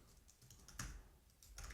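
Code is typed on a computer keyboard in fast, irregular bursts of soft clicking keystrokes, close and fairly quiet, with no voices.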